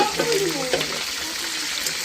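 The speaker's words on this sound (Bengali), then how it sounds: "লাল লাল করে বাদামি করে করে রোস্টটা ভাজছি।" Chicken roast fries in a pan with a dense, continuous sizzle, with a few stirring scrapes and a brief warbling tone near the start.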